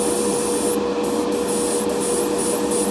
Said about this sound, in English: the styrene sprays pretty well and covers up, and it sprays pretty well actually